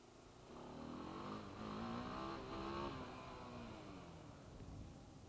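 ATV engine revving hard during a second-gear wheelie, a steady buzzing drone that swells and climbs in pitch, then holds and eases slightly, heard alone without speech.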